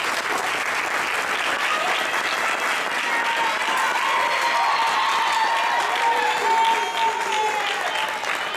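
A crowd gives a sustained round of applause for coaches at a ceremony, steady dense clapping filling the whole stretch with a few cheers rising in the mix.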